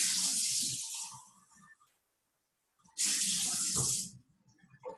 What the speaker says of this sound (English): Let me rinse out something really quick now that I used this cup already.